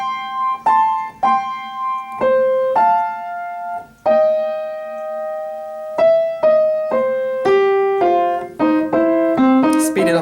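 Boogie woogie piano riff played slowly on solo piano, with clear repeated notes stepping through the pattern and gradually getting busier and brighter toward the end, close and loud.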